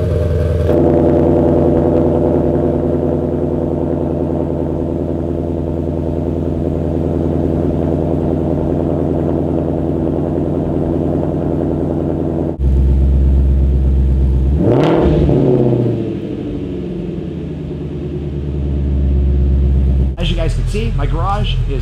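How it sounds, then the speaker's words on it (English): A Ford Shelby GT350 cold start: a deep, loud steady idle rumble, a sharp rev partway through, then settling back to a lower idle. "let's go ahead and do a cold start on the Shelby GT350"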